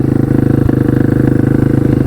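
A 150 RXF dirt bike rides along a trail, its single-cylinder engine chugging in a fast, even pulsing rhythm, loud and close throughout.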